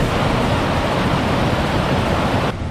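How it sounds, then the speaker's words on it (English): Small waterfall on a clean little river outside a town along the Camino Portugues, a loud, steady rushing roar of falling water throughout, with no voices. "Cool waterfall."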